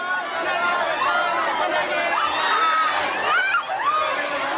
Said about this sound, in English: The crowd surges forward, and suddenly it seems like things are getting dangerously out of control.